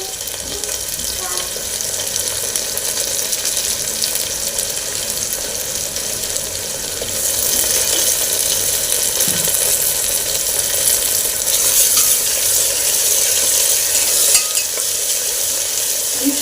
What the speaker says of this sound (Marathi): एक टोमॅटो कापून घेतलेला आहे तो घालूया